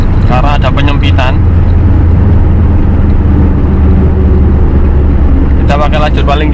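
A 2001 Hyundai Atoz pulls hard in fourth gear on a toll road, its engine a loud, steady drone over constant road noise, with short bursts of talk at the start and end.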